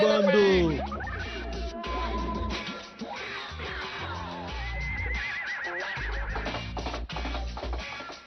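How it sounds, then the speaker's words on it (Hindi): Cartoon horse neighing loudly in a long whinnying call, followed by galloping clip-clop sound effects as it runs off, set over comedic background music. "तुम्हारा घोड़ा तो भाग गया"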